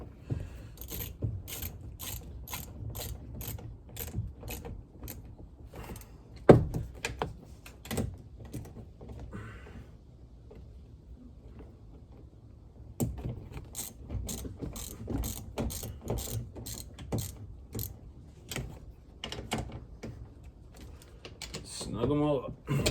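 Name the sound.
ratchet tightening mirror bolts on Honda Ridgeline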